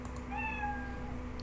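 The Scratch cat meow sound effect, a single clear, close mewing cry with a rising then falling tone, heard alone over a steady low hum.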